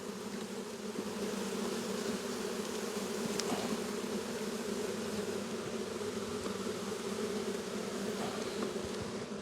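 Honey bees buzzing steadily at a hive in early spring, a dense, continuous drone of many wings close by, holding an even level throughout with no voices.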